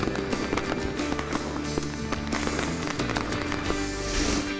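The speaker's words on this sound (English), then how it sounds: "celebrate summer nights with a spectacular fireworks show" A spectacular summer-night fireworks show at Dollywood, with dense crackling bursts and sharp pops layered over music, steady and loud throughout.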